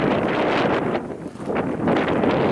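Wind blows in strong gusts on a forest trail, a loud broadband rush buffeting the microphone with a brief lull midway.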